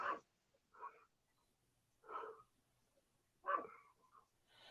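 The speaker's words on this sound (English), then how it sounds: "I hear your little dog." A small dog barks in short, spaced bursts, roughly five yaps over a few seconds, fairly faint and somewhat distant in an otherwise quiet space.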